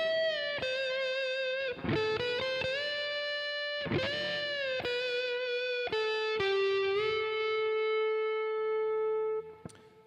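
Electric guitar plays the opening melody of a song, with sustained, bending lead notes and held phrases that ring with effects over about ten seconds, no voice present.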